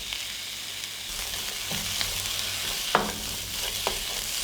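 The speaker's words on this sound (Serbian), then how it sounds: "Ulje se zagrelo i propržit ću luk i papriku." Onion and pepper frying in heated olive oil in a deep pan, a steady close sizzle with a few soft stirring knocks.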